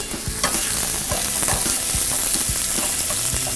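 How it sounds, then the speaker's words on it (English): Onions tossed in hot fat in a skillet while cooking shakshuka, giving a loud, close, continuous sizzle with scraping and clacking from the toss, and no talking. "as soon as I add the onion or whatever I add to the skillet, I want to give it a toss so the fat coats the onions"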